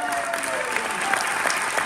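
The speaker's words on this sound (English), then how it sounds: "Let's have a round of applause for all these great" Warm applause from an audience at a theatre women's awards ceremony, dense many-handed clapping that sounds close and steady, with faint voices threaded under it.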